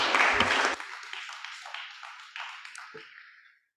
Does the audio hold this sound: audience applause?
yes